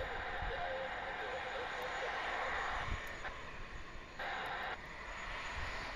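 A Falcon business jet at John Glenn Columbus Airport produces a continuous engine whine and rush at moderate distance, steady across the few seconds with slight dips in level.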